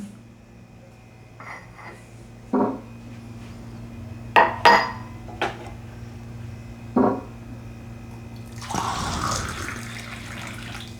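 Hot water is drawn from a container: a few soft clinks and knocks of a vessel, then a steady rush of pouring, splashing water toward the end, close and fairly clear, with no talking.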